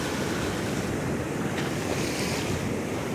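Ocean waves washing up on a sandy beach at Rosarito, Mexico, a constant loud broadband rush of surf mixed with heavy wind noise across the microphone.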